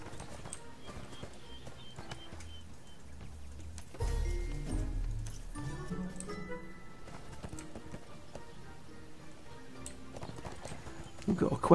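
Horse hooves clip-clop in the video game ArcheAge, a steady rhythmic clatter heard at moderate distance and mixed with game sounds.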